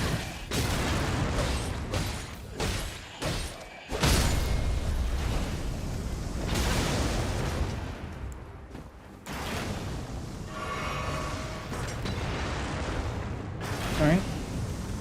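Heavy explosions and booms erupt repeatedly in the video game Elden Ring during a magic build fight, loud rumbling blasts stacking densely over one another for about fifteen seconds.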